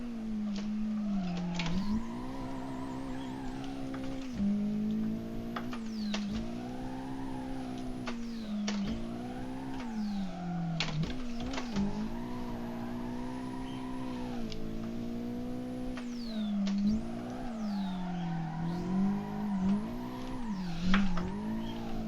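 AI race cars in the Assetto Corsa racing game on an offline track day, with steady engine drone, rising and falling revs through gear changes and occasional tire squeal, loud and continuous throughout.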